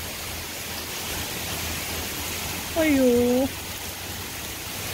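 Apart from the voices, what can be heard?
heavy rain with wind, water falling from above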